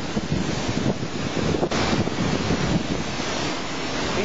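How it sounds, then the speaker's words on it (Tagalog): Strong wind from Super Typhoon Yolanda roars continuously against the microphone, a dense, steady broadband buffeting that barely lets up, with a brief gust change midway and no speech. "Ganyan na po kalakas ang hangin ngayon dito. Ang lakas-lakas na ng hangin."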